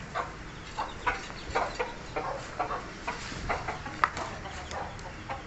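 A rooster clucks repeatedly while pecking at spinach feed on the ground, short soft clucks recurring every half second or so at close range.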